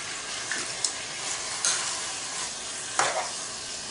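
Water poured into a hot pot of seasonings for Jamaican curry chicken, giving a steady close hiss and bubbling with a few sharp splashes and clinks, no voices.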